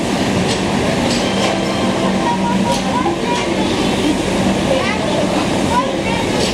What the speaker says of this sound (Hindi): ये जो है बेंगलोर राजधानी यहाँ से डिपार्चर लेते हुए